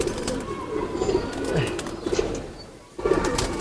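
Racing pigeons of a home-bred lot coo softly and repeatedly, low rolling calls close by with faint rustling between them, one short pause near the end before the cooing resumes.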